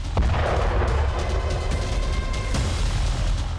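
An Israeli strike brings down a large commercial high-rise in Gaza City, heard as a loud, sustained rumble of collapse with heavy low-end roar and a sharper burst partway through, no voices.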